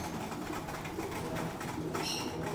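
Racing pigeons coo softly inside a loft, low throaty calls repeating against steady background noise.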